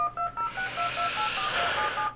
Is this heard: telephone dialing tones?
yes